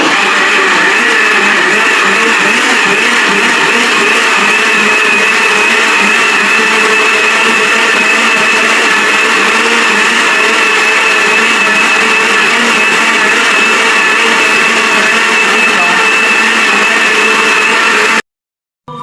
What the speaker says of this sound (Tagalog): Saksak mo yung blender mo hiwaga.